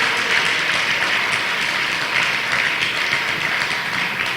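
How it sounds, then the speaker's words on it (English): A crowd at an evening fundraising event gives a loud, sustained round of applause, close and dense, with no break over about four seconds. "Give Sojourner Douglas College a big round of applause"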